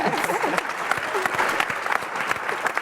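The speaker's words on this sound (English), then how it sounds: "can we give our panel a round of applause?" An audience applauds a panel of young leaders at an event, with brief talk at the start and then steady, close, sustained clapping.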